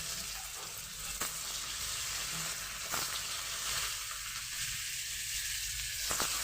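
Crumbled paneer with turmeric and chili powder frying in a pan, a steady close sizzle with a few light stirring scrapes and no talk.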